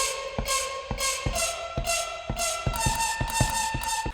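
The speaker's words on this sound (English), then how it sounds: "So I took one of those tins and made this really kind of strange noise with it" Tuned sample of a strange metallic noise struck from a tin, repeating in a steady rhythm of sharp hits with ringing tonal tails, loud and close with no voices.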